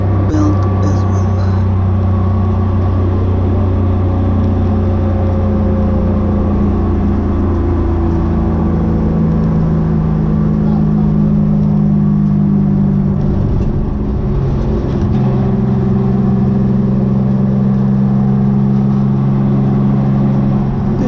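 Straight-six engine swapped into a Mazda RX8 race car at Donington, starting to overheat, with a loud steady rumble and shifting revs inside the cabin and a voice talking over it.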